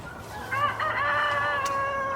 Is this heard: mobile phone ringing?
no